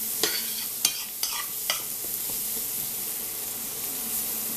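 Two pork slices fry in a pan with a constant, fairly quiet sizzle, while a few sharp scrapes and taps from a utensil come early on before the hiss settles alone.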